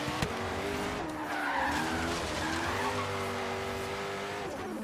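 Tires skid and squeal steadily as a car drifts in the racing video game Forza Horizon 3, with engine tones running underneath the continuous screech, loud and close throughout.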